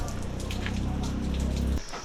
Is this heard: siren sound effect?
no